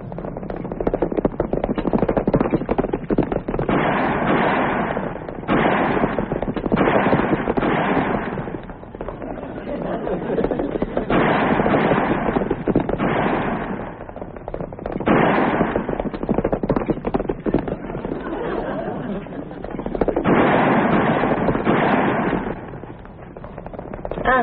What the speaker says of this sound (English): We're chasing some fellas. They're shooting at us.